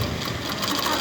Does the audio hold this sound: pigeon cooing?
no